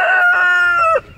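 A single rooster crow, loud and close, a drawn-out harmonic call that cuts off sharply near the end.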